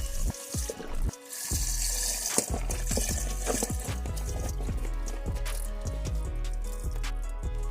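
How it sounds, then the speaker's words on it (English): Liquid poured from a container into a pot of great northern bean soup, a steady close splashing and gurgling stream with drips, no talking. "We're going to start adding in our liquid."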